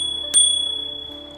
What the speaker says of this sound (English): Yeah, the bell.